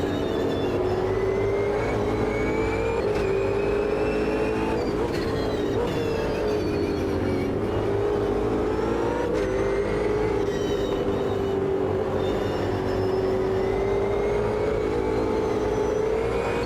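Race car engine in Automobilista 2 holding a high, steady whine that dips and climbs through a corner slide, loud and continuous with gear changes and no talk.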